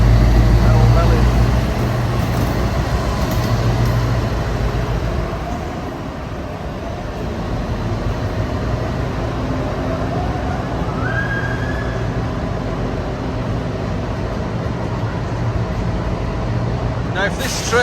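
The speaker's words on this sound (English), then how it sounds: "There's a freight coming through" A long freight train passes through near Eastrington, on the line toward Howden, as a steady, loud rumble of rolling wagons that drops slightly and then holds at an even level throughout.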